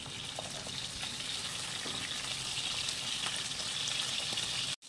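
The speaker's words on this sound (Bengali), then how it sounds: "তেলটা গরম হলে এর মধ্যে ইলিশ মাছের মাথাগুলো হলুদ নুন দিয়ে মাখিয়ে ভেজে নেব।" Hilsa fish heads coated in turmeric and salt fry in hot mustard oil, giving a steady, close, dense sizzle with small pops and crackles throughout, alone without voices, cutting off abruptly at the very end.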